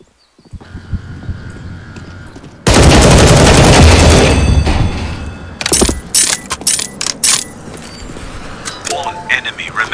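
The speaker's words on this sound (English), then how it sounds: "I'm getting shot at, I don't know where." Gunfire in the video game CS:GO Danger Zone: a sudden long, dense burst of automatic shots, loud and close, then scattered sharper single shots and clatter, with a voice speaking over parts of it.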